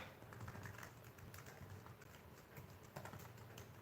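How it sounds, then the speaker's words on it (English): Steady typing on a computer keyboard, a continuous patter of close, fairly quiet key clicks with occasional louder strokes and no talking. "I'm typing it in now."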